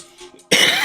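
A congested person gives a single short, harsh cough that bursts out suddenly after quiet breathing, close to the microphone.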